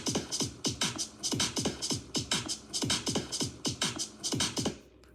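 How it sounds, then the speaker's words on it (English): Trimmed 2-step machine drum loop in 9/8 time, with booming kicks and bright snare and hat hits in a bouncy, syncopated groove that repeats evenly, then stops abruptly near the end. "And then just added this 2-step machine beat that I found from the loop sample"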